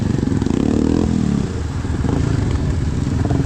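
A 2024 Yamaha Kodiak 450 ATV engine revs under throttle, a loud, close mid-pitched roar that holds, briefly dips, then climbs again with some mechanical clatter.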